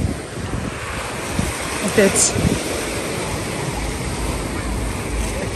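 Stormy sea surf and wind on a beach at Lazarevskoye, with steady broadband wave roar and gusting wind noise throughout and a brief voice speaking near the middle.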